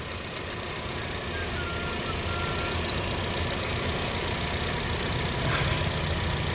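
A Honda City car engine idles steadily just after starting, a constant mid-low running drone with a faint metallic knocking texture, close and unbroken throughout with no talking.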